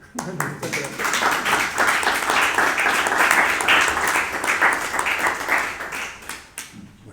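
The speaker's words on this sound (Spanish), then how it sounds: "Déjame aplaudirte en agradecimiento" Applause from the audience at a Spanish talk about Asturian figures of the political transition. It starts with a few claps, swells into steady dense clapping, then tapers off at the end.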